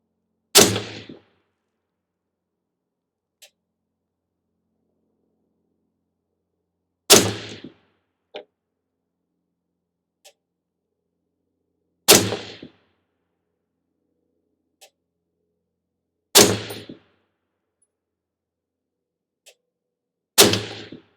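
Five loud, sharp rifle shots from a Ruger SFAR .308 firing M80 ball ammunition, spaced roughly five seconds apart, each with a brief echoing tail and faint clicks between.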